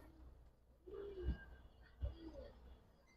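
Pigeon cooing at a pigeon market in Old Dhaka, two soft low coos about a second apart, faint and close amid quiet background murmur.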